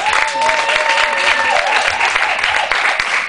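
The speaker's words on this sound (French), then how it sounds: "acclamons très fort pour lui." A church audience applauds and cheers for Pastor Chris at a prayer gathering, steady dense clapping filling the room with a raised voice or whistle-like tone riding over it.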